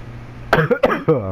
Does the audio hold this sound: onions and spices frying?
no